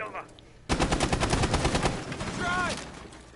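Rapid automatic gunfire sprays in a tactical shooter match, a loud burst of closely spaced shots that bursts in suddenly and runs for over two seconds, with game sound effects trailing after it.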